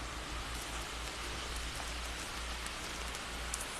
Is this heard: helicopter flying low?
no